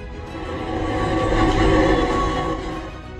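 A runaway unmanned train rolls along the tracks with a steady, close rumble that swells and fades over a few seconds, with no voices heard.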